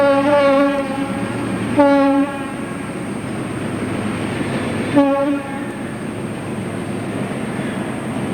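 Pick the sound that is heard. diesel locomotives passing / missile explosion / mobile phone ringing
diesel locomotives passing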